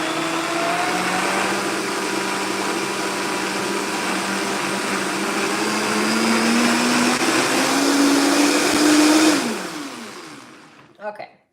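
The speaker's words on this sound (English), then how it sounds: "And I'm gonna turn the blender back on." A blender runs steadily on a flaxseed cracker mix with garlic, its motor whine slowly rising in pitch as the blend loosens, then cutting off abruptly near the end, followed by a brief clunk.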